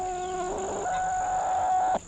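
Fluffy Cochin and buff Orpington chickens cluck and call nearby, a drawn-out, wavering vocalization over a steady background hum that ends abruptly near the close.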